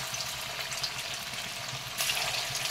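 Banana flower pakoras dropped into hot oil give a steady, fine sizzling hiss that swells a little louder partway through, alone with no talk.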